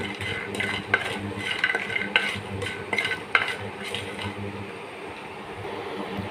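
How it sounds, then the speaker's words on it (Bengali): Bori lentil dumplings frying in hot oil, close steady sizzling broken by repeated clinks and scrapes of a spatula stirring in the pan, fading slightly toward the end, with no talk. "তেলটা গরম হলে তারপর একসাথে বড়িগুলো ভাজি।"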